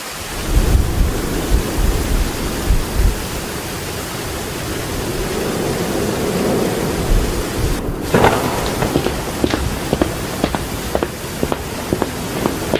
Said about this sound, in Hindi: ये तो बहुत तेज बारिश शुरू हो गई।